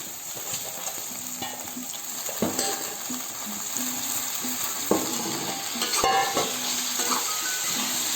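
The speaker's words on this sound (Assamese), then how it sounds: "পুনৰ মই এনেদৰে লৰাই দিছো" Chicken and tomato fry in a pan with a constant crackling sizzle, while a utensil stirs and scrapes against the metal in irregular clinks and knocks.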